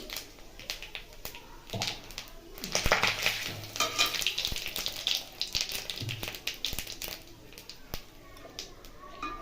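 Two bay leaves, half a spoon of cumin and a pinch of asafoetida hitting hot oil, bursting into a loud crackling sizzle with spatula scrapes and pan clatter, while someone talks over it.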